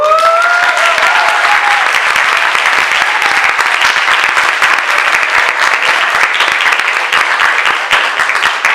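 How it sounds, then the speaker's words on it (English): Dense, loud applause from the audience at a Division 2 Conclave in 2016, greeting the candidates, sustained evenly throughout with a few brief tonal cries near the start. "give them a round of applause for them"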